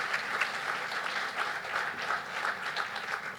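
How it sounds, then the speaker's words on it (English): Steady audience applause fills the room at a cancer center ribbon cutting ceremony, many hands clapping continuously and evenly with no voices on top. "Let's give him a round of applause"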